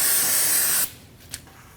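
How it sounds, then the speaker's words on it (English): Brake parts cleaner sprays in a loud, steady hiss around the oil drain area of a 2.5L five-cylinder Volkswagen Passat, cutting off abruptly after under a second and leaving a faint rustle with one brief click. "Clean up your mess with a clean rag and some brake parts cleaner."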